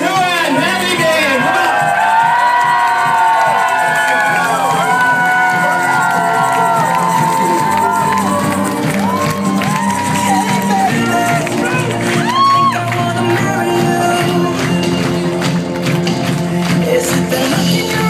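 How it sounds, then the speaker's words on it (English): A lively wedding crowd cheers, whoops and claps loudly and continuously as the bride and groom are introduced, with excited voices and shouts mixed throughout. "would you please give a big round of applause?"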